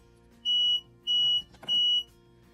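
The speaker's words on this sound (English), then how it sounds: "sometimes the humidity in the swamp cooler makes the alarm go off" A smoke alarm set off by humidity from a swamp cooler gives three long, steady high-pitched beeps, evenly spaced and fairly close, with a quiet low room hum beneath and no talking.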